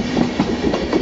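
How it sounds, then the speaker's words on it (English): A double-decker express train rolls into Interlaken station in Switzerland, its wheels giving a steady rhythmic clickety-clack over rail joints, close and fairly loud throughout. "we're now seeing an express coming into Interlaken with a double-decker train"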